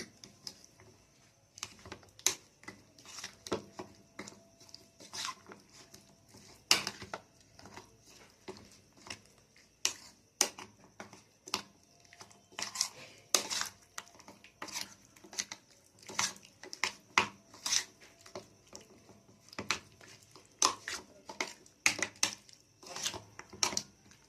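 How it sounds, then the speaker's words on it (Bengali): Chicken pieces worked by hand with cornflour and chilli paste in a bowl for chilli chicken, giving soft, wet squelches and irregular clicks and taps against the dish, fairly quiet and steady throughout. "এবার আমি দিয়ে দেব কর্নফ্লাওয়ার, দিয়ে এবার এটাকে আমি ভালো করে মেখে নেব"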